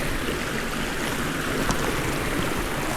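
A river stream rushes in a steady, close, broadband wash of flowing water, unbroken for a few seconds, with no voices.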